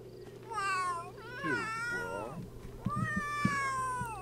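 A cat meowing in The Sims 3, several long drawn-out, rising and falling meows in succession, close and clear, with faint light thumps underneath.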